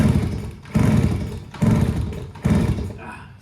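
A vintage 1974 Kawasaki MC1 motorcycle engine being kicked over repeatedly: four close, rhythmic bursts of sputtering cranking, each lasting under a second and separated by short pauses, never catching into a run.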